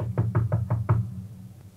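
Six quick knocks on a door in a dorm-room scene, sharp, close and evenly spaced, then a quiet pause with no voices.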